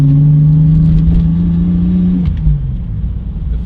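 BMW E46 street car fitted with a new turbo, accelerating with a steady engine drone and a rising whine that falls away after about two seconds, close and loud throughout.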